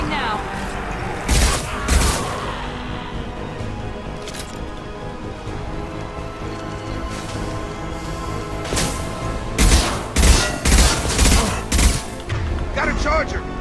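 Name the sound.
gunfire from a weapon in the Mass Effect video game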